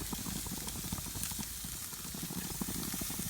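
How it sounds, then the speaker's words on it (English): Sous-vide ribeye steaks, patted dry and laid on a super hot grill, sizzle in a steady, dense crackle with fine popping spatters throughout, close and unbroken. "they're out of the sous vide and onto the grill. Super hot, all patted dry. Lay them on there."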